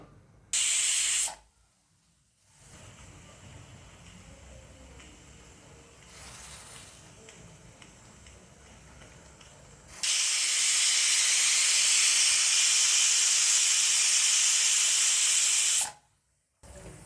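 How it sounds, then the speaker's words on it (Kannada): A pressure cooker whistles as loud hissing steam bursts out, a short blast first, then a long, steady roaring hiss of several seconds before cutting off abruptly. "ಕುಕ್ಕರ್ ಮುಚ್ಚಳ ಮುಚ್ಚಿಬಿಡೋಣ. 2 ವಿಷಲ್ ಬಂದ್ಬಿಡ್ಲಿ ಅದು."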